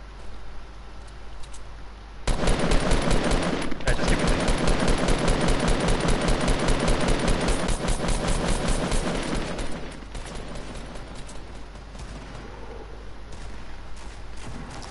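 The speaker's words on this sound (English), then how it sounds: "Just keep shooting with AR." Sustained rapid assault rifle fire in Fortnite, dense repeated shots hammering loudly for several seconds, then easing into quieter, sparser gunfire and background game noise.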